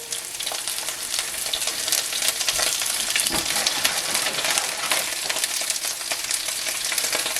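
Pieces of General Tao chicken frying in hot oil in a pan, a loud dense crackling sizzle running steadily close up, with no talk.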